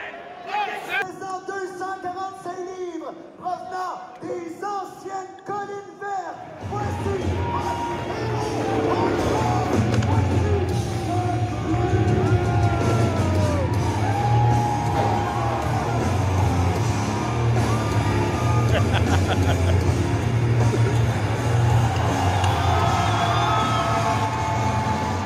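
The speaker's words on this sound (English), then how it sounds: "I'm going to just show you the reaction of the crowd here." At a live wrestling event a crowd roars for a wrestler's entrance, a loud, continuous mass of cheering and yelling with low rumbling, preceded by a few seconds of people talking close by.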